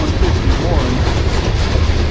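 A CSX freight train rolls past at a rail line in Ringgold, Georgia, giving a loud, steady low rumble with faint wheel clatter and no break across the whole stretch.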